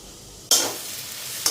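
Potatoes and beans hit a hot pan with a sudden loud sizzle that settles into a steady frying hiss. A second sharp burst of sizzling comes just before the end.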